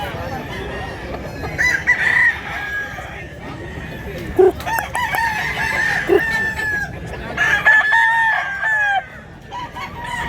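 Roosters crowing in a Mantalungon, Cebu yard, several long cock-a-doodle-doo calls rising and falling across the stretch, fairly near and loud, with scattered clucks and other fowl noise in between.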